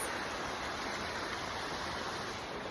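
A creek with small waterfalls flowing beside a hiking trail near Seattle, heard as a steady, even rush of water that carries on unbroken throughout.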